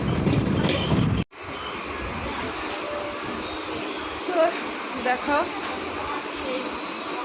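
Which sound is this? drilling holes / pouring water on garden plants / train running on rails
train running on rails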